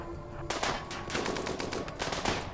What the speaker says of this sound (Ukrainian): Робимо швидкий постріл.